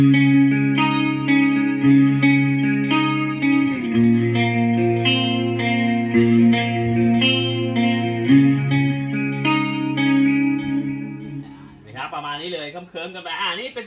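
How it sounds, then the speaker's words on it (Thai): Electric guitar on a clean chorus tone through a Line 6 POD HD500X plays a run of chords and arpeggios with a wide, shimmering sound. A voice speaks briefly at the very end. "แล้วก็เป็นเสียงคลีนคอรัส"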